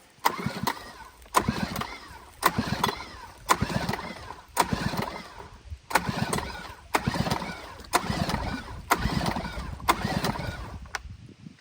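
A four-stroke outboard motor, found in a junk pile, is pulled over repeatedly with its throttle wide open, giving a rhythmic series of about a dozen chugging cranking bursts, each with a sharp click, loud and close.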